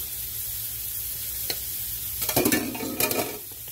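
Food Line brand waffle mix cooks on a buttered waffle iron, giving a steady faint sizzle with a few louder crackling bursts near the end, with no talking.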